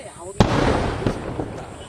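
Sharp blast of explosives detonating near a military battalion, a loud single boom followed by a rumbling tail with a couple of smaller pops, voices faintly underneath.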